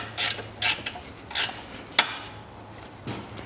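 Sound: tightening Kia Rio timing belt bolt with ratchet

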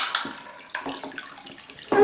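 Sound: water splashing in aquarium with toy fishing boat

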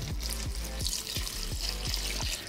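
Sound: milk poured into pancake batter

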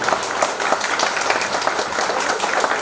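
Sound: applause for the bride's and groom's parents at a wedding

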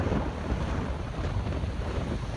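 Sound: strong wind on Blackpool promenade

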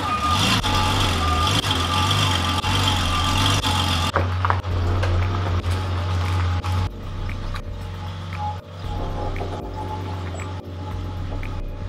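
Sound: car reversing and moving, with reversing beeps

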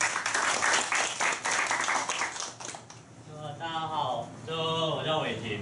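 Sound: audience applause

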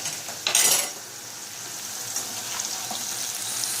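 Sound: eggplant and peppers frying in oil

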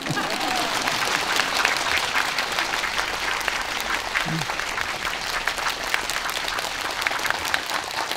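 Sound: audience clapping

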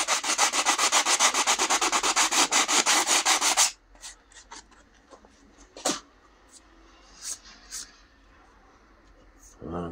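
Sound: lightly sanding a 3D-printed crossbow part

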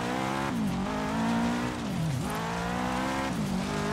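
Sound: car engine in the video game Forza Horizon 3

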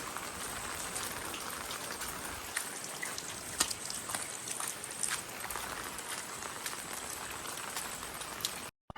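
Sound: rain

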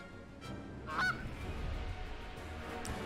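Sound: duck quacking in the video game Fell Seal

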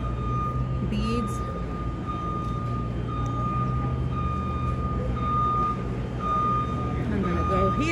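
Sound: reversing beeps from trucks setting up at a trade show

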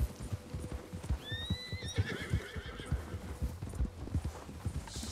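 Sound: horse neighing in the video game Red Dead Online

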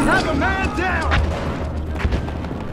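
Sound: gunfire in the video game Battlefield Hardline

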